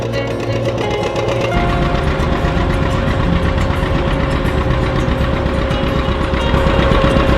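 A John Deere tractor engine chugs loudly and steadily nearby in an apple orchard, a constant rhythmic knocking drone with no pause throughout.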